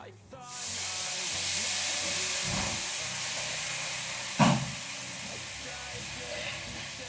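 Squid hitting a hot frying pan bursts into a loud, steady sizzle that fills the whole stretch, with a couple of brief knocks from stirring or the pan shifting on the stove.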